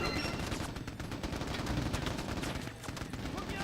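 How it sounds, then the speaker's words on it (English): Hectic gunfire from a firefight in the video game Mercenaries: Playground of Destruction, with dense bursts of automatic and single shots rattling continuously and loudly throughout, no speech. "these firefights actually get pretty hectic"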